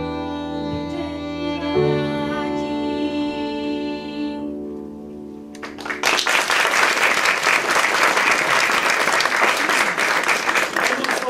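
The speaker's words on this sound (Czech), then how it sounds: "já tleskám" Strong, sustained applause from an audience at a theatre performance breaks out after a song ends, dense and loud clapping that continues to the end of the clip, with the held final musical notes heard before it.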